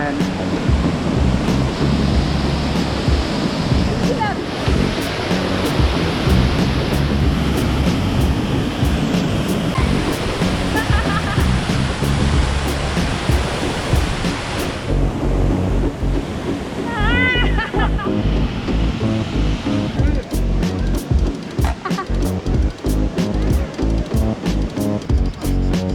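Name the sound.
Kravice waterfall in Bosnia and Herzegovina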